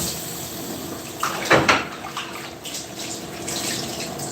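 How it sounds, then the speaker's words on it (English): Pork trotter meat is rinsed under a running kitchen tap: steady water rushes and splashes close by, with a few louder slaps of water against the meat partway through and no speech. "let me just rinse this"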